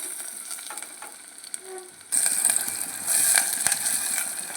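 Thinly sliced onion from one large bulb dropped into hot oil for Andhra-style bagara rice: a quiet pan, then a sudden loud, bright sizzle that keeps crackling steadily up close.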